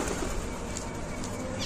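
Ailing pigeons cooing in a coop, soft and low beneath a steady, noisy background hum with no clear break.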